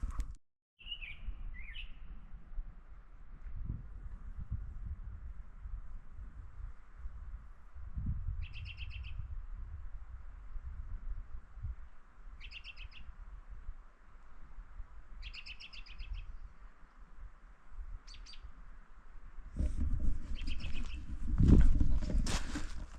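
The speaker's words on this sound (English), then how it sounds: "Sounds like the robins are pretty happy." Short bursts of robin chirps and song recur every few seconds at a distance over a steady outdoor background hum at a campsite, with some rustling and a louder thump near the end.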